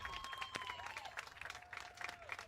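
Crowd applauding for pitcher Jacob Allen as he leaves the game at a youth baseball World Series semifinal, Georgia vs. North Carolina, a faint, scattered clapping from a distance with a tone running through it.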